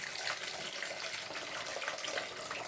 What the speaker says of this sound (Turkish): Suyunu boşaltmak istiyorum.